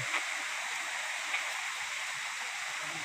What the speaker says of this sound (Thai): น้ำตกห้วยอิโต้ วังเทวดา นะครับ